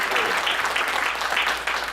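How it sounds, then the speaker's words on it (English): Steady applause from an audience at a community college town hall, a dense, even wash of many hands clapping close by for two seconds without letting up. "So how about a round of applause?"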